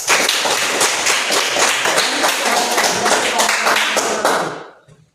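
Classroom applause, a burst of many hands clapping close and loud for about four seconds before cutting off abruptly.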